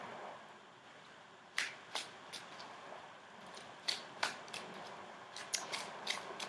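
Oracle cards being shuffled and drawn for a reading: a series of crisp snaps and flicks, some in quick pairs, at close range in a quiet room with no talking.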